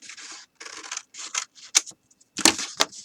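Scissors cut through fabric during a Capri Sun box upcycling craft. A series of short, close, crisp snips with small gaps between them, and nobody speaks.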